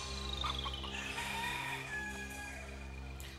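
A rooster crows with a drawn-out, wavering call over a steady low background hum, moderately close, with no speech.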